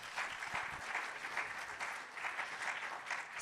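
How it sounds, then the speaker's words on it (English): Steady applause from a seated audience fills the room for a panel discussion, a dense, even patter of many hands, moderately distant and without voices. "Can we get a round of applause for our panelists, please?"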